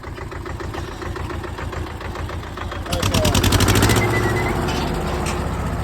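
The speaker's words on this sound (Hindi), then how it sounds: "ट्रैक्टर ना भाई इस तरीके चलते हैं, देख रहे हो।" A tractor rumbles along a mountain path on the rainy Kedarnath pilgrimage route, its engine chugging in a rapid, knocking pulse that grows louder and closer around the midpoint and stays loud.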